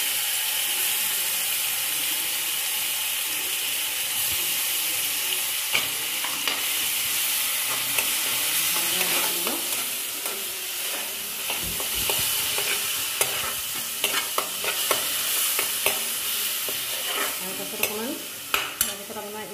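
Chopped onions sizzle steadily in a hot pan while a utensil scrapes and clicks against the metal in repeated strokes, a dense continuous frying sound with no voices.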